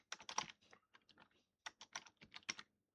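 Fingers type on a computer keyboard while entering measurements into cabinet design software, producing quick, irregular bursts of close, crisp keystrokes with short pauses between them.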